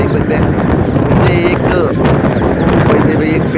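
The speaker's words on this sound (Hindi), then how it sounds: "इतनी तेज हवा चल रही है कि मैं आपको क्या बताऊँ।" Strong storm wind roars continuously during a village dust storm, loud and gusty with buffeting against the microphone, and someone talks over it throughout.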